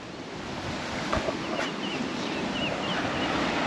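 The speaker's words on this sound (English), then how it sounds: "I swung the ute around because the wind's coming straight from this way." Wind blows steadily across an open outback campsite beside a ute, a broad continuous rush buffeting the microphone with no voices.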